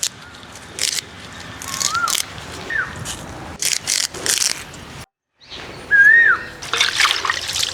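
Bitter gourd pieces being washed by hand in water, with a soft trickling and splashing that comes in irregular bursts, close by, while birds call faintly in the background.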